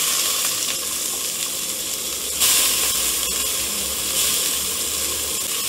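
Sliced onion fries in oil with a bay leaf, two star anise and two cloves, giving a steady, close sizzle broken by a couple of louder hissing bursts as it is stirred.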